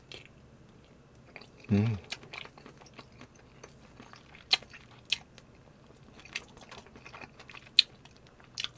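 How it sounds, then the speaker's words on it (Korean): Beef short ribs (galbi) are bitten and chewed up close, with a brief loud handling thump early on followed by scattered wet clicks, smacks and gnawing sounds over quiet background. "역시 갈비는 뜯어야지 맛."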